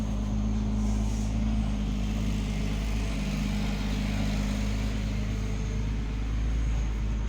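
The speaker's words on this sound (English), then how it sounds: "Trucks and people going home" Passing trucks and road traffic on a cold day, a constant low rumble and broad roadside wash that swells gently without breaks, moderately loud and with no one speaking.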